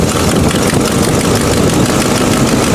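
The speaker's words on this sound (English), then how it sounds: "if I rev it a little bit" A Buick engine that shakes and bounces at idle is revved slightly, producing a continuous, loud, rough mechanical roar with a dense, noisy texture and no voices.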